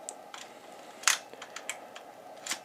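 A Nikon FM film camera clicks through a series of sharp mechanical snaps as its shutter fires and the film lever advances, small close-up clicks spaced irregularly, one notably louder than the rest.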